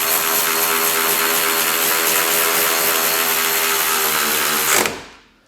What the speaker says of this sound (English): I'm going to switch the ratchet so that it's in tightening mode. And I'm going to go ahead and tighten down the same bolts